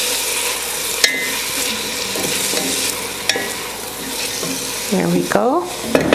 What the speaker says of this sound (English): Going to give this a stir.